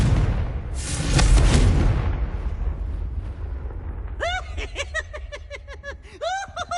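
A Confringo spell fired in Hogwarts Legacy, heard as a loud, bright burst with a sizzling whoosh that fades into a rumbling tail, followed by a series of quick chirping, warbling magical effects.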